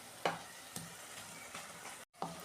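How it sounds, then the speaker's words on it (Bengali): Cabbage pakoras fry in hot oil with a steady low sizzle, broken by a few soft bumps and one brief gap. "এই যে এপিট ওপিট করে আমি একটু লাল লাল করে ভেজে নেব।"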